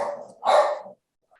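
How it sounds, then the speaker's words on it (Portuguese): A female dog gives two barks, the first softer and trailing off, the second a louder, fuller bark close by, with nothing else heard after. "Esse latido deve ter sido da Flora ou da Donatella, que são as cachorras do Rafa."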